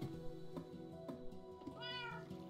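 Cat meowing in a video game, a drawn-out mew with rising then falling pitch near the end, over steady background game music.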